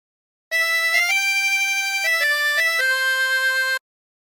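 Harmonica plays the first phrase of a song as a short series of sustained, clean reedy notes changing pitch in steady steps, loud and close, alone against silence.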